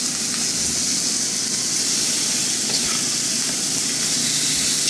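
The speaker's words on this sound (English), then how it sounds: "You hear that nice little sizzle?" Chicken wings sizzle on an oiled griddle with a steady, loud frying hiss and a few faint crackles, no voices.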